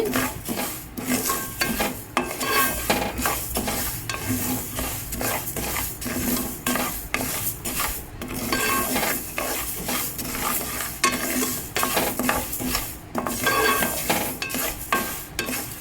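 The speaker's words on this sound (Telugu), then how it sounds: "ఆవాలు కొంచెం వేగాలండి." Mustard seeds fry in oil for mango pickle. A continuous close sizzle runs throughout, joined by repeated scraping and clinking of a utensil stirring against the pan, with no voices.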